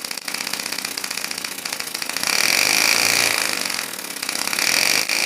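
A homemade 4500 rpm air motor with slightly loose O-ring seals runs continuously, giving a loud, steady mechanical whine and buzz that swells slightly in the middle and again near the end.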